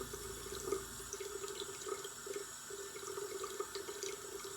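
A bathroom tap runs steadily into a sink during face washing, a soft continuous stream with small splashes and drips, fairly faint and close, with no voices.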